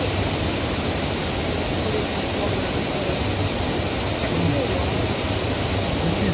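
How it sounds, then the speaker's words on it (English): A waterfall at Loretta Lynn's Ranch in Hurricane Mills, Tennessee rushes with a steady, loud, broad hiss of falling water, constant and close, with voices faintly present underneath. "But look at this waterfall."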